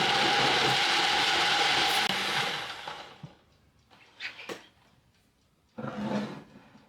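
A blender whirs through pumpkin muffin batter of pumpkin pie spice, vanilla and eggs, a loud steady grinding for about three seconds before cutting off, followed by a few brief clatters of kitchen handling.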